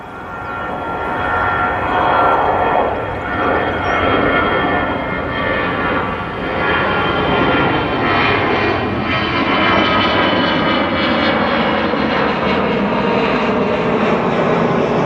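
An easyJet airliner on its takeoff roll from Manchester Airport, bound for Murcia: a loud, steady jet engine roar that swells and holds for the whole stretch, broad and rumbling, with no talk.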